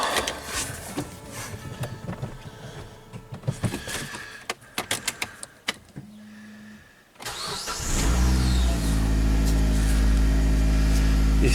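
Clicks and a few sharp cranking bursts, a short pause, then a car engine catches and roars into loud, steady running that continues to the end.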